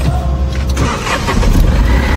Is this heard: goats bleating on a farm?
no